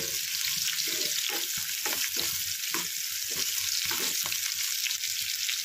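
Onions fry in oil with a loud, continuous sizzle, while a spoon stirs them with repeated scraping strokes throughout.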